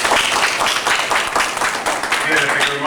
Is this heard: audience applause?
yes